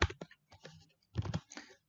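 Rapid bursts of computer keyboard typing during a Microsoft Access practical exam walkthrough, with quick clustered keystrokes and short pauses between them, close and fairly quiet with no talking.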